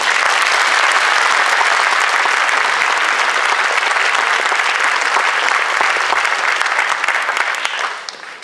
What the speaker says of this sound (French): vous prendrez grand plaisir à encourager et à applaudir nos artistes amateurs et bénévoles